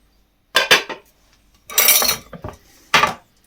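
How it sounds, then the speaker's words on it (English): Potatoes dropped from a sieve into a stock pot in a kitchen, three separate bursts of clattering metal and knocking with quiet gaps between them. "So I'm now going to add those into the stock pot."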